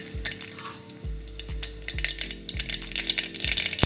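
Mustard seeds dropped into hot oil in a pressure cooker on a gas stove, sharp popping and crackling spitting up in a steady patter, with short regular thuds and a faint sizzle beneath.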